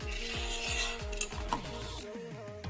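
A metal bolt slides along the aluminium track rail of an overland rooftop tent, giving a close series of rhythmic ratcheting clicks and scraping rubs that ring briefly, with a few sharper knocks near the end.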